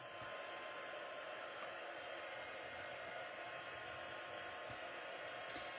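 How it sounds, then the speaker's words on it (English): A heat embossing tool on its second setting blows hot air for card making, a steady, even whooshing hum that holds throughout at a fairly low level, with no talking. "Always for heat embossing, use number 2, okay? So just let that heat up for a moment."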